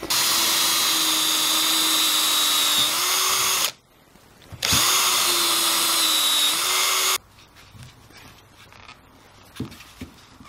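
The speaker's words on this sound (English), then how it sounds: "on the bottom side I need to drill holes so that I can get this screwed in there" A power drill whines loudly in two long bursts while drilling holes in wood, pitch dipping as it bites, separated by a brief pause, followed by quiet handling clatter.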